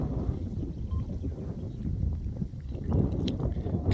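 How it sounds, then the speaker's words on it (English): Wind buffets across an open lake at a carp fishing spot in Croatia, giving a steady, rumbling low gusting close to the microphone with some lapping water and no talk. "We've got a decent wind on now."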